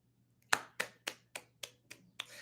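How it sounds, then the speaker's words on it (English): Seven sharp, crisp hand claps in a steady rhythm, each followed by a brief decay, sounding close and isolated over a faint low hum. "He's clapping."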